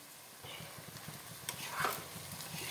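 Shrimp stirred with spinach and vegetables in a pan, soft scraping and rhythmic stirring strokes over a faint sizzle, close and quiet.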